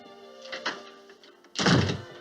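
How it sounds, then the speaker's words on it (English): A door thumps shut in a dining room in a 1958 western, one solid low thud after a quiet stretch with faint sounds before it. "why don't you shut the door?"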